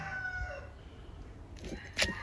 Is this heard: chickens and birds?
yes